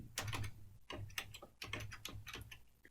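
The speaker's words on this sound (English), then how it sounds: "After typing the from date, hit the tab button and then type in the to date." Computer keyboard keys tapped in quick irregular bursts while dates are entered and the tab key is pressed, a close, dry clicking that fills the whole stretch with no talk.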